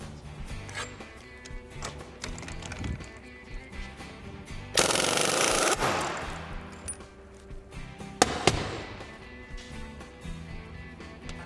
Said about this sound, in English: First, we remove and discard this lock nut from the journal bracket.